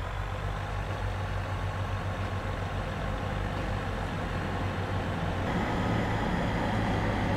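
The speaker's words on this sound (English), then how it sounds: "You'll hear the distinctive engine rev up before the train starts moving." BR Class 150/2 diesel multiple unit engine in Train Sim World 2, a steady low droning rumble that swells slightly toward the end, heard alone without talk.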